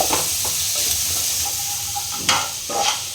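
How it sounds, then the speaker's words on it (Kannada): Mushrooms frying in a pan for mushroom manchurian produce a loud, dense, close hiss of oil, with a few soft spatula clicks and a sharper stir near the end. "ಇವಾಗ ಇದು ನೀಟಾಗಿ ಫ್ರೈ ಆಗ್ತಾ ಇದೆ ನೋಡಿ"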